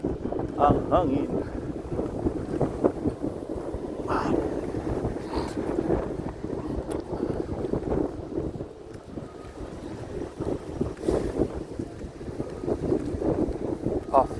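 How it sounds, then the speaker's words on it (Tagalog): Gusty wind buffets the microphone outdoors in downtown Regina, a continuous rough rumble under a person speaking intermittently while walking. "Ang hangin."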